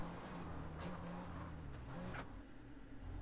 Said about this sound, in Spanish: Vean, manejando un coche rápido, ¿eh?